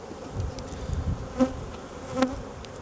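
Honeybees buzz in an opened hive during a swarm-check inspection, a dense, steady, close drone with two brief louder swells as bees pass near.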